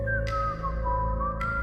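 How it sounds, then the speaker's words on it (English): An eerie, wavering whistle drifts outdoors from a house's side yard as heard from the front porch: a steady sliding tone over a low background hum, with two brief breathy bursts marking its start and a later swell. "it sounds like the whistling's coming from the side yard"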